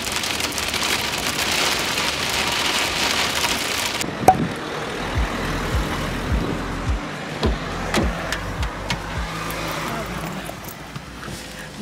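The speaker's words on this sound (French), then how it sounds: "Regardez la pluie qu'il y a." Heavy rain pours down steadily and loudly throughout, with a broad constant wash and scattered drops pattering on nearby surfaces, one sharp knock partway through.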